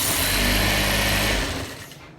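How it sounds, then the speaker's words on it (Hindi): A sewing machine stitches a ladies suit with a loud, steady mechanical whirr that runs evenly, then winds down and fades toward the end. "यहाँ से ये निशान हमारे लगे हुए हैं, यहीं पे हम सिलाई करेंगे"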